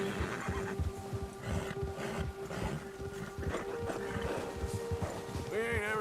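In the video game Red Dead Redemption II, a horse lets out loud whinnies and snorts over a steady clip-clop of hooves, with someone speaking Portuguese over it and a rising neigh near the end.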